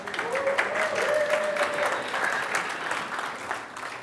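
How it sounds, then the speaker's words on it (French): A church congregation applauds warmly for a few seconds during a sermon, the clapping dense and moderately loud with faint voices mixed in, holding fairly even throughout. "On les applaudit."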